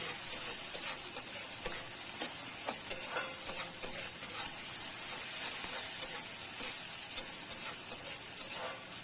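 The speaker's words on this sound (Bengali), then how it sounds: "টমেটোটা দিয়ে কয়েক সেকেন্ড নেড়ে নিলাম।" Tomatoes for dhaba-style tarka dal sizzle in a pan with a constant bright hiss, while a spoon stirs through them with light, irregular ticks and scrapes.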